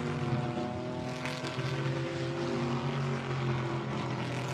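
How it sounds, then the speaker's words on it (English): A metallic blue Chevrolet Camaro GT4 race car at Zandvoort gives a loud, steady engine drone with a rumbling tone that rises and falls slightly as it passes during qualifying. "That is just 7 thousandths of a second down on the metallic blue Camaro we're looking at now of Jo Rapanga"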